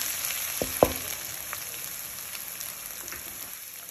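Ginger garlic paste sautés in a pan for an egg sukka fry, giving a steady, soft sizzle throughout with a couple of sharp clicks early on.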